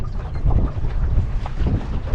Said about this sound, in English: Whoa, caught a gust there.